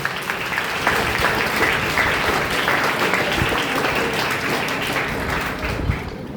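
An audience at a school function gives a loud, sustained round of applause for the teachers who prepared a dance performance, a thick wash of clapping that holds steady and tapers slightly at the end.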